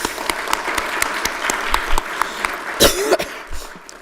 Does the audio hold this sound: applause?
yes